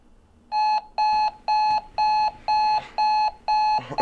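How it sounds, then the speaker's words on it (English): An alarm clock rings in seven evenly spaced, loud electronic beep bursts, each a clipped buzzing tone with short gaps, close and alone with no talking. "Early morning alarm, been done."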